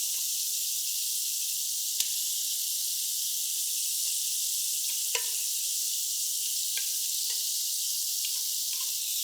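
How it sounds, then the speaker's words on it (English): Bacon strips fry in a pan as their fat renders, giving a steady, bright sizzle with a few sharp pops and crackles scattered throughout. "So we're going to get that in and get the fat rendering down"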